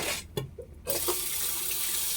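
Tap water runs into the sink of a camper van while dishes are washed, a close steady hiss and splash that stops briefly for a few clinks and then flows on.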